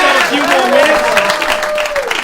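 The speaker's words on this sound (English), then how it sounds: "Give her a big round of applause." A radio show studio audience applauds briefly and near, the clapping mixed with a voice and a rising-falling vocal tone running over it.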